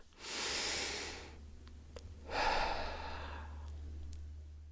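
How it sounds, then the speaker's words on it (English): Two slow, deep breaths taken alone in a quiet room, each a long airy inhale or exhale, separated by a brief pause with a few faint clicks. "Take a deep breath."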